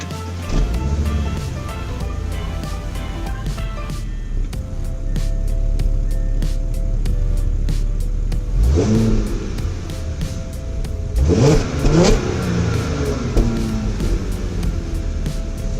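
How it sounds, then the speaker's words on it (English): A 2012 Audi A7 with stock exhaust cranks and fires up, then settles into a throaty idle with a couple of sharp revs rising and falling. "Quick startup of the 2012 Audi A7 stock exhaust."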